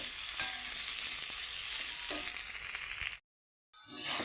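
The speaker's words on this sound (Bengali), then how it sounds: "মুলোগুলো ভেজে নিয়ে আলুটা দিয়ে দিলাম তো এখন একটু কষিয়ে নিচ্ছি" Radish and potatoes sautéing in a hot pan, a steady close sizzle with light stirring scrapes, cut by a brief gap of silence near the end before the frying noise resumes.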